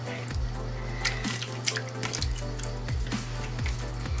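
Dollar Tree jiggly slime being handled, giving off a steady wet, watery trickling with small drip-like clicks, close up and continuous, no voices.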